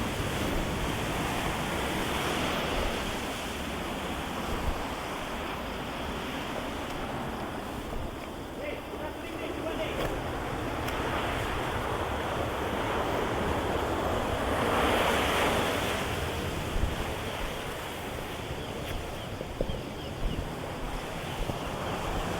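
Large ocean waves breaking on a sandy beach, a constant roaring wash that swells and fades, with wind buffeting the microphone throughout.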